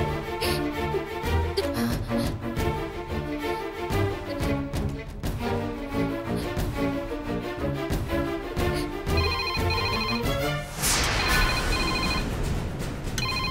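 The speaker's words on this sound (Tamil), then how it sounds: "மா, யாரோ போன் அடிச்சிட்டே இருக்காங்க, போய் யாருன்னு பாருமா" A telephone rings repeatedly and steadily in a home, its electronic ringtone loud and continuous with a denser tone burst near the end.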